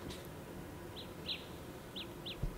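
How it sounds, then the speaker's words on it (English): Samsung Galaxy Buds sounding their Find My Earbuds alert: four short, faint high chirps spaced about a second apart over low room noise, with no talk. "there's a chirp coming out of both of these"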